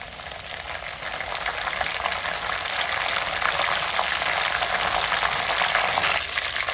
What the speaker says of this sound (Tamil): ஒரு கொத்து கருவேப்பிலை சேர்த்துக்கிறேன்.